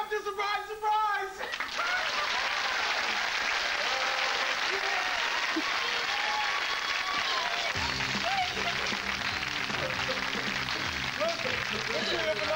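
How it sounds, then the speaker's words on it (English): A television studio audience breaks into sustained loud clapping after a brief stretch of talk, a dense continuous roar of hands that carries on as voices and music come in beneath it. "They're all clapping for you."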